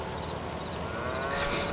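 Cattle in Farming Simulator 22 moo in a low, drawn-out call over steady farmyard ambience, with a brighter tone rising near the end, moderately close and without talk.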